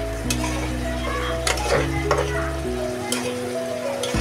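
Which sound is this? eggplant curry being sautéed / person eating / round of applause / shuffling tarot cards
eggplant curry being sautéed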